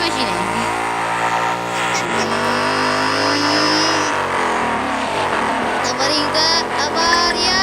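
A car video game with its engine revving and shifting pitch through rising and falling harmonic sweeps, loud and continuous, with game music or effects layered in and people talking over it.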